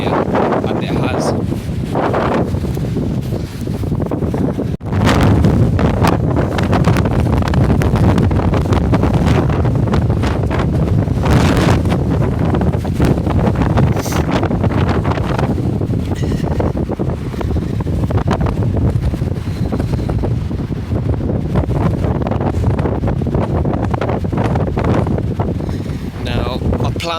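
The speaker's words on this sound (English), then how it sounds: "I did say it was going to get a lot windier, and it has." Strong wind gusts buffet the microphone on the coast at Padstow with a loud, continuous rumble for the whole stretch. A voice talks faintly under the wind.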